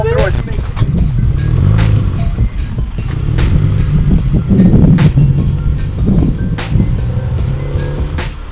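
A car engine and exhaust rumble and rev at a car meet, a loud, continuous throaty roar that surges and fades with passing bursts, with voices and wind noise mixed in.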